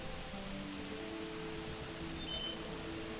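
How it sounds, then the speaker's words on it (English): Rain falls in the Viking settlement game Banished North as a soft, constant hiss of steady rainfall that holds evenly throughout, with faint tonal game music in the background. "Is it raining?"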